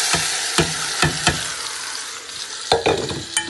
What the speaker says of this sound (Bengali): অয়েল গরম হয়ে গেছে, দিলাই অনিয়ন, গার্লিক, জিঞ্জার, তেজপাতা লগে দিলাম